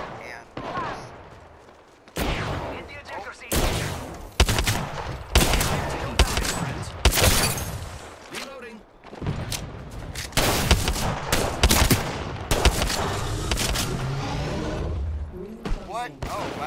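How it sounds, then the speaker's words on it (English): Gunfire in the Apex Legends battle royale game, with dense bursts of shots, loud impacts and rapid automatic fire coming in clustered volleys, mixed with game effects and a player's voice talking over it. "Listen up, I'm getting shot at."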